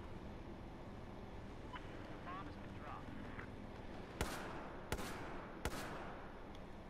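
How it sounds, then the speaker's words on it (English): Fireworks in the video game Battlefield 4 go off as three sharp, loud bursts about a second apart over a steady rumble of background game noise. "Fireworks."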